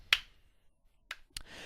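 Three sharp hand claps, evenly paced and loud, ringing alone in a quiet room.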